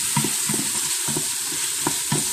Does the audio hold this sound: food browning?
yes